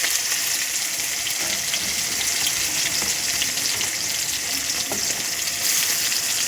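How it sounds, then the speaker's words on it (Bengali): Ginger, garlic and onion frying in oil for chicken kosha, a loud, dense, continuous sizzle with faint stirring scrapes underneath, close and steady with no talking. "আমি চিকেন কষা করব আজ আদা রসুন পেঁয়াজ দিয়ে দিচ্ছি"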